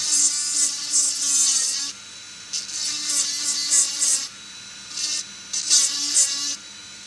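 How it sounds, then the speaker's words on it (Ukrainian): Rotary tool fitted with a diamond bit grinding the presser foot of a GEMSY GK-357 sewing machine, a high whirring buzz in several bursts with short pauses, close and steady. "алмазна насадочка в мене тут"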